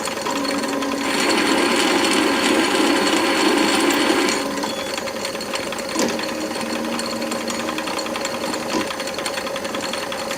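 Myford ML7 lathe in back-gear at just under 200 RPM cutting a 2mm-lead ACME thread in 303 stainless steel, a steady close mechanical whine and hum with a harsher cutting buzz swelling early on, then a few faint clicks.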